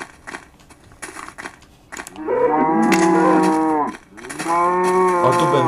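Two long, loud cow moos in the Minecraft video game, each drawn out over a couple of seconds with a short pause between, following some quiet clicks and rustles.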